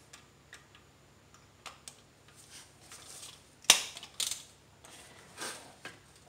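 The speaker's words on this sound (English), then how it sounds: "So you're going to put your spark plug socket in straight." A ratchet fitted with a spark plug socket works on a spark plug in a 2010 Kia Soul, giving quiet, close clicks and ticks at irregular intervals, with one sharper metallic knock partway through.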